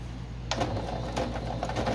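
A sewing machine back stitches at the start of a straight edge on a soft fabric cover, its motor starting halfway through and then running as a steady, close, busy stitching whir with no talking.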